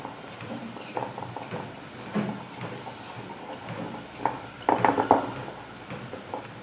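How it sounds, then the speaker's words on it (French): Milk being stirred into cocoa powder in a bowl, with soft scraping clinks of a utensil against the dish in irregular strokes, a brief louder clatter near the end, close and fairly quiet. "Je mélange."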